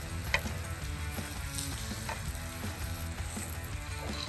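Cauliflower sizzles steadily in hot safflower oil, a dense, even frying hiss with occasional pops and crackles, close and continuous, with no talking.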